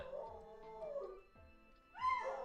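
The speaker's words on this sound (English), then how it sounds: "My dog's going nuts" A dog howls and whimpers in wavering, rising and falling cries, with two long howling bursts separated by a brief dip, fairly close and alone.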